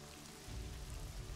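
Rain ambience backing a tabletop role-playing session, a soft broadband patter of rainfall on a surface that thickens slightly after a moment, steady and fairly quiet with no voices.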